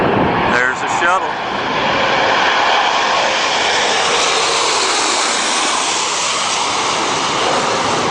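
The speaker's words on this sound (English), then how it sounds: "Take a look and take a listen to those jet engines." A landing shuttle aircraft roars with a broad, steady jet-engine rush that fills the whole clip, loud and sustained, with a brief whine sweeping through near the start.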